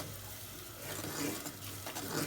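Ground cloves and black cardamom roast in a hot pan, giving a steady soft sizzle with occasional stirring scrapes, close up and without talk.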